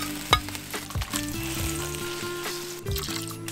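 Pork belly frying with scallion and ginger in a wok: a close, continuous sizzle broken by the clinks and scrapes of stirring, with no talk over it.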